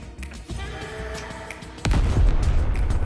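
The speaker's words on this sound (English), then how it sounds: "Oh, secondary explosion!" A deep CGI explosion from a movie scene, loud rumbling blasts and crackle, with a much heavier, louder second detonation surging in about two-thirds through and rolling on to the end.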